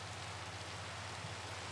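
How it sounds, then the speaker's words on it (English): Steady rain in the Minecraft video game, a constant soft hiss of falling drops with a low rumbling bed, even and unbroken, heard alone with no talk. "it just started raining"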